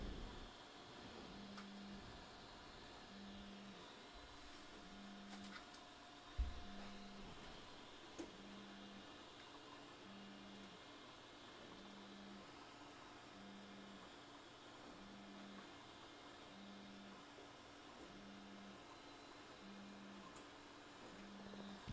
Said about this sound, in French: Oh, mais il se déplace vénère l'imprimante, hein.